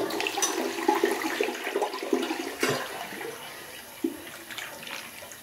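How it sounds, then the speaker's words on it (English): A 1997 Cisa toilet is flushed by foot, with rushing, gurgling water that is loud at first and then gradually tapers off into a softer trickle. "I'm gonna do a last flush with my foot."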